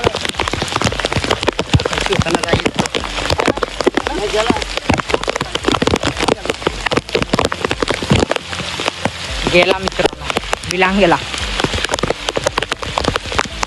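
Heavy first monsoon rain pours down in a dense, continuous hiss of drops striking surfaces close by, while someone talks through the downpour.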